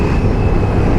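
A KTM 790 Duke motorcycle engine roars loud and close under throttle, a dense low rumbling drone with steady wind and road noise and no pause or speech.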